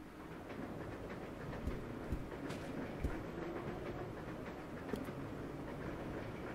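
A train in Resident Evil 0 rumbles steadily along the rails, a low continuous roar with periodic clacks from the wheels passing over track joints, heard alone.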